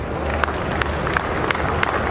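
An audience at a book launch event claps unevenly in a partial round of applause, a dense crowd patter with scattered louder claps throughout.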